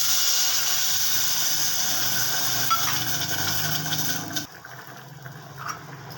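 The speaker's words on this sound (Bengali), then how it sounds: "মাছের ঝোলটা ফুটে উঠেছে" Katla fish curry (jhol) simmering in a pot on the stove, a steady bubbling hiss that cuts off abruptly partway through, leaving quieter kitchen noise.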